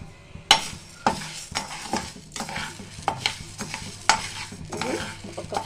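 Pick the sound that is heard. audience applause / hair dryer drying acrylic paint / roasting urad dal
roasting urad dal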